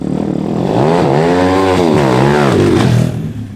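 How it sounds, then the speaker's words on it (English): Loud close engine of a Honda Integra DC5 Type R revving on a test drive, pitch climbing, dipping and rising again in smooth sweeps before easing off, no voices. "Next up, going to take it for a little test drive"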